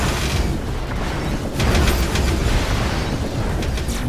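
A laser strike explosion in the video game Space Tyrant: a loud, continuous booming rumble with sharp crackling bursts layered over it, sustained for several seconds, with no talking.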